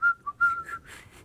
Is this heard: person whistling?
yes